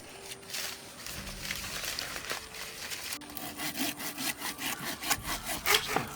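A saw rasps back and forth through banyan tree roots and branches, steady rough strokes close by with a quickening rhythm toward the end, and no voices.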